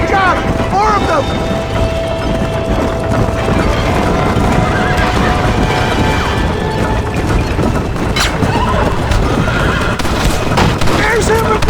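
Horses neigh and whinny over a steady clip-clop of galloping hooves in the video game Red Dead Redemption, with music, crashes and talking voices layered throughout.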